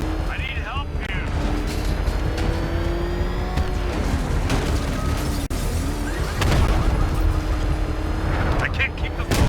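Cars in a Batman Arkham Knight chase roar and skid through a loud, dense mix of engine whine, crashes and explosive booms. Engine pitch sweeps up and down continuously.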